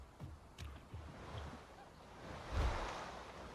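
A dinosaur wades through water in Path of Titans, with soft rhythmic splashing footsteps, then a louder surge of sloshing water over a hiss of wind and surf.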